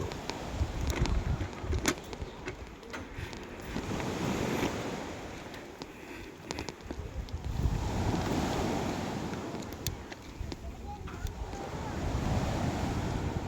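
Waves washing onto the beach at Toei Ngam in Thailand, a rolling, surging surf that rises and falls in repeated swells with gusts of wind buffeting the microphone, close and loud.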